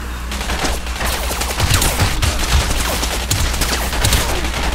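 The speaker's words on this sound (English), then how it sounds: "who's shooting at me?" Dense gunfire from the video game Crysis, a steady crackle of rapid automatic shots and bursts close up, loud and continuous with no talking.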